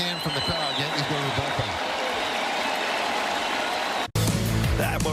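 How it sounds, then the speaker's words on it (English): A baseball crowd gives pitcher Carlos Rodon a big hand as he leaves the Yankees–Padres game, with broad sustained applause and cheering under commentary, cutting abruptly near the end to a louder burst. "He gets a big hand from the crowd"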